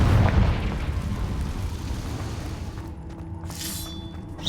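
A Confringo blasting spell exploding in Hogwarts Legacy: a deep, rumbling blast opens loud and then decays into a long crackling roar, with a brief bright magical flare near the end.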